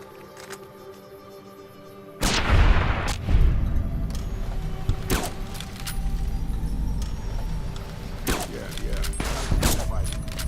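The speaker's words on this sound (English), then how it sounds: "Damn, that was a good shot, Raul." Gunfire in the video game Fallout New Vegas: a loud burst of shots erupts after a quiet start, followed by a second volley and further scattered shots and booms through the rest of the clip, with speech-like game audio underneath.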